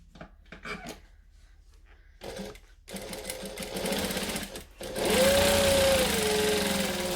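A sewing machine stitching the shoulder seams of a dress, short stop-start bursts of running that give way to a longer steady whir, loud and close with no talk.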